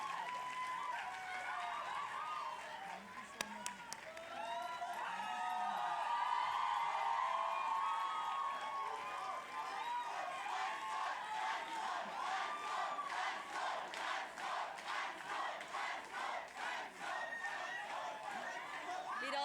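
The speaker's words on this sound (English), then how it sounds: "A standing ovation" A large crowd cheers and applauds loudly, the clapping turning into a steady rhythmic beat toward the end, with voices mixed in.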